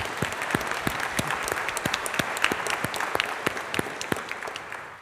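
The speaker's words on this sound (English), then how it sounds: "Can you give her a round of applause," A congregation at a Confirmation Mass at St. Michael the Archangel applauds the new youth minister, a full, continuous round of clapping from many hands with crisp individual claps popping through, sustained and even throughout.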